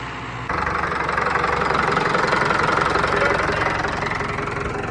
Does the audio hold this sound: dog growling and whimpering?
no